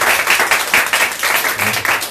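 Worshippers in a church service break into loud, rhythmic group clapping in praise, with dense overlapping claps pulsing evenly from start to finish and no talking on top.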